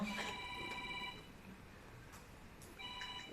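A mobile phone plays a repeating electronic ringtone during a Gita course class, moderately faint with a short gap between bursts and room noise in the background.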